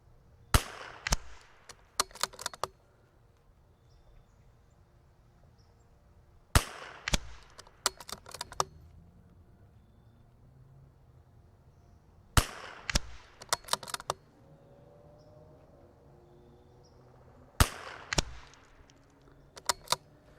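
Groups of sharp .22LR rifle cracks from a CZ 457 and a Vudoo V22 at 150 yards outdoors in cold weather, several clusters of quick shots separated by quiet gaps, moderately distant and faint.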